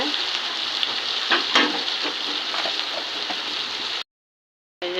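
Garlic paste and onion paste frying in a pan give a steady, loud sizzle with occasional stirring scrapes, broken by a brief cut to silence near the end.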